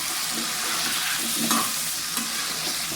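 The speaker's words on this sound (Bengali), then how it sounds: "এটা আমি নুন হলুদ দিয়ে ভাজা করে নেবো হালকা হালকা" Potatoes frying lightly in a pan with salt and turmeric, a steady close sizzle with occasional stirring scrapes running through the whole stretch, no voices over it.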